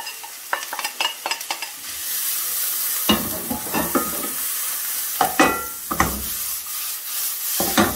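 Onion stems frying in a little oil in a pan, with bursts of crackling sizzle and stirring scrapes coming and going close by, loud and uneven, no talking.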